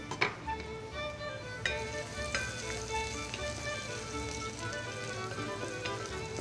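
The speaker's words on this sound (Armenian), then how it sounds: "շատ բարձր ջերմաստիճանի տակ է տապակվում սոխը" Onion fries over high heat in a steady, fairly quiet sizzle, with scattered small pops and spits throughout.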